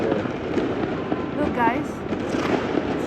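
Fireworks bursting outdoors on New Year's Eve, a steady dense crackle and boom with a brief whistling rise midway, heard under a person's voice.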